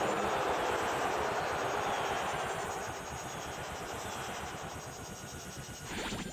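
Podracer engines in the Lego Star Wars: The Complete Saga pod race roar as a steady, loud, whining drone that eases slightly midway and swells again at the end.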